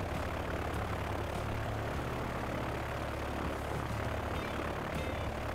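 A propeller aircraft drones past in the Transport Fever 2 simulation game, a steady loud engine hum and airscrew buzz filling the whole stretch without talk.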